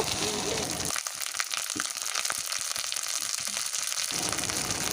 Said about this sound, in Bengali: ওর মধ্যেই দিয়ে দেবো সেই বাটা মশলাটা যেমন আদা রসুন আর জিরে এই মশলাটা দিয়ে ভালো করে কষিয়ে নেব